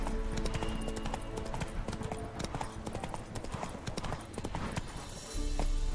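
Roach, a horse in The Witcher 3, trots along in a steady, busy clip-clop of hooves. The hoofbeats are close and fairly loud over a game background, with a short lull near the end.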